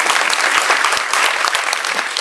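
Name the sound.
audience applause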